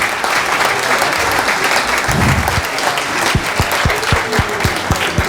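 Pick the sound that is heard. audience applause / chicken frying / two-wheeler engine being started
audience applause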